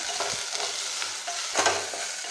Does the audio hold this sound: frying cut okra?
yes